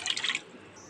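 Water is poured into a pan of sugar to make syrup for gulab jamun, a brief splashing pour that stops quickly and leaves near silence.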